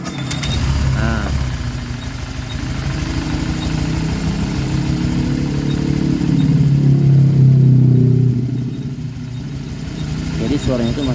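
An All New Honda Vario 125 scooter engine, hot and seeping a little oil, hums continuously nearby with a faint rubbing squeal, while a person talks over it.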